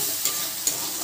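Washed rice and lentils dry-frying in a pan, a steady broadband sizzle-like hiss with two brief scraping stirs, close and moderately loud, no voices.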